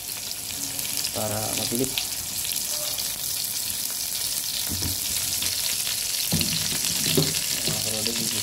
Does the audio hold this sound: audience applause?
no